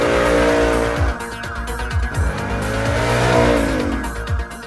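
Ford Mustang Mach 1 at speed on the Velo Città race track, its engine roaring loudly and rising and falling through gear changes, with tires squealing through the corners and nobody talking.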